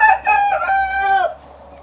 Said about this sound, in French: 6 coqs pour une 60aine de poules.